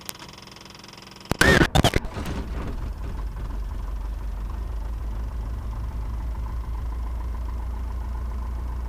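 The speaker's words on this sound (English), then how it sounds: "And start the engine." A light aircraft piston engine cranks with a brief loud burst, catches and settles into a steady, even idle that continues to the end with no talking.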